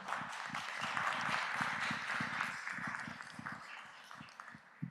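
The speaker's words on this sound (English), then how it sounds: "Give him a round of applause and a welcome." Applause welcoming a new intervention specialist at a school board trustees meeting, a fairly faint, steady clatter of clapping from a room of people with some low thumps from handling underneath.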